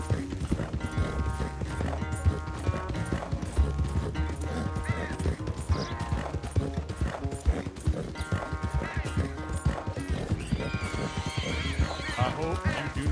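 Rapid clip-clop of galloping horse hooves in Red Dead Redemption 2 runs steadily under a busy music-and-effects mix, with voices talking over it throughout.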